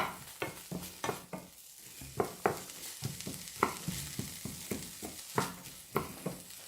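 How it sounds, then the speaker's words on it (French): Bacon lardons and onion frying in butter in a pan for a Savoyard tartiflette, a steady close sizzle broken by repeated sharp scraping knocks as the pieces are stirred, with no talking. "Je vais introduire le bacon ou le lardon ainsi que l'oignon. Je vais les faire revenir"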